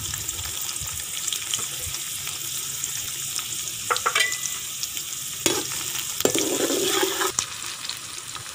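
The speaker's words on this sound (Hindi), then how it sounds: "सबसे पहले घी के अंदर भिंडी जो उसको फ्राई कर लेना है।" Okra sizzles steadily in hot ghee in a home kitchen, a dense crackling fry with occasional sharper pops and stirring scrapes throughout, no voices.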